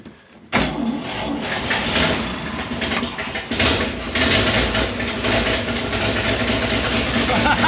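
An old engine unused for 15 years catches abruptly with choke on and runs loudly, settling into a rough, rumbling idle with a slight rise in revs partway through.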